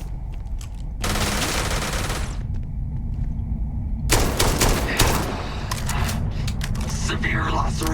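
Automatic weapons fire in Starfield, a dense burst of rapid shots from about one to two and a half seconds, then a longer, louder barrage of sustained gunfire with scattered crackling impacts.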